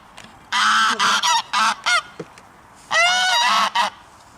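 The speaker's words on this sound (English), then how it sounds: "the goose's call is often described as a type of honk" A goose honks in two clear bouts, a rapid run of five loud nasal honks followed after a pause by three more, close and alone.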